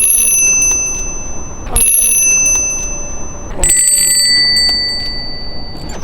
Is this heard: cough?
no